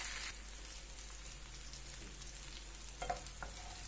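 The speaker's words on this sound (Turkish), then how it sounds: "içine yeşil biberimi ilave ediyorum. Ve kavurmaya devam ediyorum" Green peppers sauté in a hot pan, a faint, steady sizzle with a couple of soft stirring clicks toward the end.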